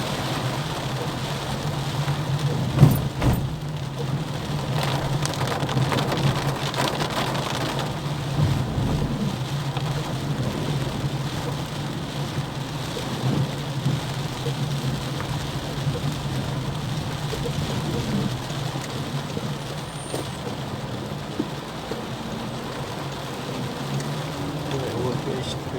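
Heavy rain pours steadily over a narrow street in João Pessoa, a dense continuous hiss with a low rumble and passing traffic noise, occasional thuds, and no clear speech.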